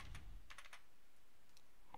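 Computer keys are tapped in a few quick, light clusters of clicks, close by and quiet, with short pauses between the bursts and no speech.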